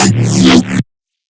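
A short, gritty neuro bass synth note made in Serum, set to mono and legato, growls with a sweeping, filtered tone for under a second before cutting off abruptly into silence.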